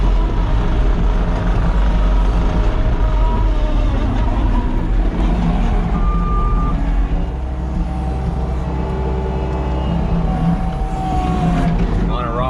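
New Holland C345 track loader engine running, a loud continuous low diesel rumble with steady drone, close by, and a person talking over it.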